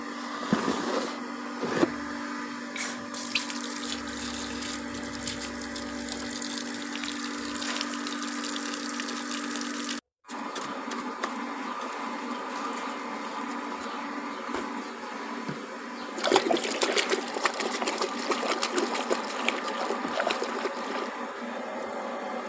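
Steady running water at a village pump in Bangladesh while dishes are washed, continuous and close throughout with a brief break near the middle and splashier, louder flow toward the end, no talk.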